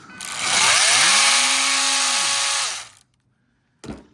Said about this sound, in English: So I've improvised my multi-tool. I put a couple of screws on the end.